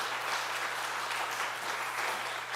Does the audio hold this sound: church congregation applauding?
yes